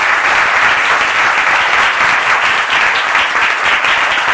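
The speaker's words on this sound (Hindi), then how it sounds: "अगर वाकई में आपको अच्छा लग रहा है तो यीशु के लिए ताली बजाइए।" A church congregation at a live Hindi service claps in unison, dense and loud, a steady wash of many hands for over four seconds with no talking.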